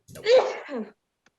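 A single close, sharp sneeze with a quick intake and explosive burst, followed by silence.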